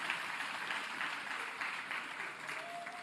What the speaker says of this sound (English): let's give South African Police Service a big round of applause for the